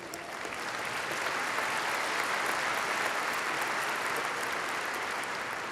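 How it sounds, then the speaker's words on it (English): An audience applauds during a speech, steady dense clapping that stays even throughout, sounding like a large room full of people, with no voice heard. "While I love the applause, it does make the speech a little longer."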